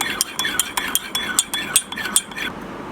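Egg yolks whisked with cornflour and flour in a cup, heard as rapid rhythmic clinks and scrapes of a utensil against the cup's sides, close and moderately loud, with no talk.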